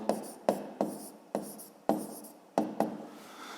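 A pen writes on paper during a fifth-grade math exercise, making close scratchy strokes in short bursts, about seven distinct attacks with brief pauses between.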